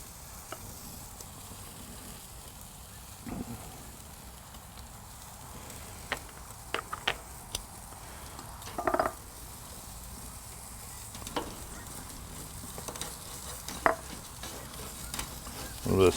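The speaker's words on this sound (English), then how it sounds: "Just going to get the butter on these now." Ribeye steaks, seared first and then finished over indirect heat, sizzle with butter on a grill rack. A steady frying hiss runs throughout, with scattered sharper crackles and pops.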